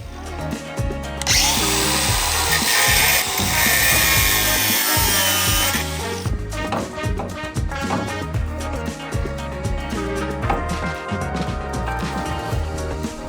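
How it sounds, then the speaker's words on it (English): A power tool grinds and cuts a relief into a steel suspension bracket on an old 1980s supercar chassis, a loud, harsh whine with a bright shrieking stretch early on, then continuing rattly cutting and clattering metal noise with no talk. "we need to cut a relief so that can sit inside it"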